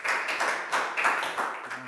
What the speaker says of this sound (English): High five and a big round of applause for lak gau,